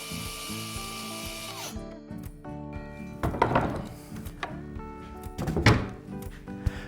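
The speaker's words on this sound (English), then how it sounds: "I can make that with the track saw as well. This is a stopped cut" A track saw making a stopped cut in wood for a writing desk whines steadily, then winds down with a falling pitch. Several close wooden knocks and clunks follow as the cut is finished.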